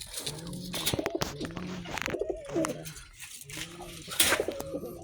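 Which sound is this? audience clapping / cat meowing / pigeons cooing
pigeons cooing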